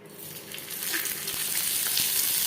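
Mustard oil sizzles steadily in a pan before fish paturi goes in to fry, a close, loud, continuous hiss that swells slightly over a couple of seconds, with no voices.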